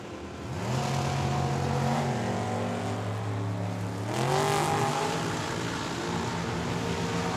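A dragster and a Mustang launch side by side at Tucson Dragway, engines roaring up through rising revs with a gear change, loud and close, then surging again as they pull away.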